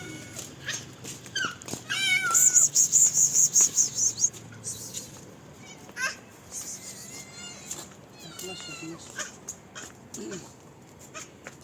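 Several garden cats being fed liver meow and mew in short, high cries, with a quick run of rapid calls early on and scattered clicks and rustles throughout, close by.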